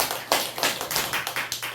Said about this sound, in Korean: 같이 박수!